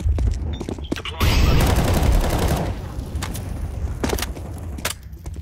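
A flashbang grenade goes off with a loud, sharp blast in a shooter video game, followed by rapid gunfire and scattered cracking shots that gradually thin out.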